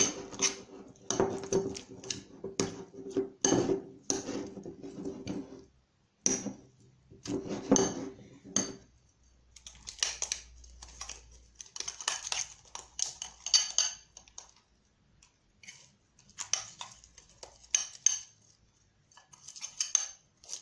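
A plate being washed while making homemade slime, with ceramic dishes and cutlery clinking and clattering close by in irregular bursts, separated by short quiet gaps.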